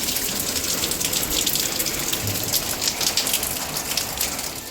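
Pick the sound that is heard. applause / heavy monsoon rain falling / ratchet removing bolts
heavy monsoon rain falling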